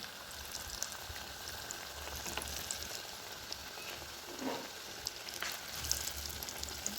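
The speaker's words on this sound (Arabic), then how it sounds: "درت هنايا كميه تاع الدريوش كما تشوفوا راني نقلي فيه" Pieces of eggless qrouech dough sizzle and fry in hot oil, a steady close crackling bubbling with small pops throughout, no voices.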